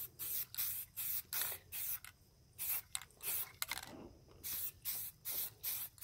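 A stainless steel tumbler being spray painted, with about a dozen short, sharp aerosol bursts in an uneven rhythm, close and hissing, with brief handling clicks between sprays.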